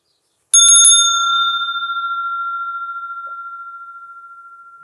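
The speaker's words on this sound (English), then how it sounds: "I will begin just with the sound of my bell here" A meditation bell is struck to open a session: a quick flurry of a few bright strikes, then one clear ringing tone that hangs on and slowly fades, pulsing gently, alone in silence.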